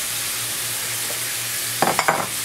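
Onion frying in a pan with beef, a continuous even sizzle at close range, with a few sharper crackles and scrapes near the end.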